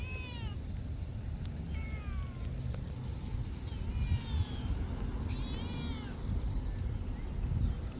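A cat meows several times outdoors, short rising and falling calls repeating through the clip over a steady low rumble of traffic or street noise.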